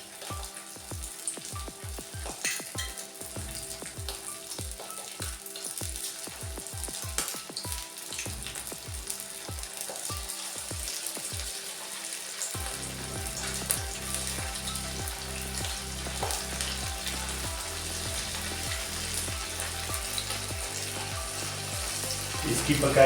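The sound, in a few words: boneless chicken pieces deep-frying in medium-hot oil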